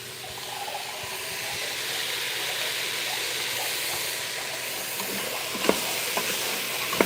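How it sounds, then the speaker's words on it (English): Onions and carrots sizzling in a pan for beef stew while a spoon stirs them, a steady close frying hiss with scattered scraping clicks and a few sharper knocks near the end, no talking. "Give that a stir."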